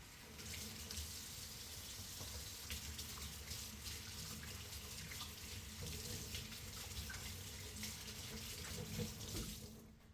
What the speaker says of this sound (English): Wash my little hands.